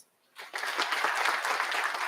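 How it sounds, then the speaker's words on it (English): Audience applause breaks out after a brief silence at a college award ceremony honouring the most outstanding student, a dense, steady wash of many hands clapping that holds strong to the end. "I think she needs an applause."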